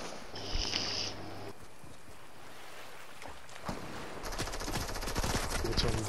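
Rapid automatic gunfire in a shooting video game, bursts of machine gun fire crackling at moderate loudness with short pauses, mixed with game background noise and no clear talk.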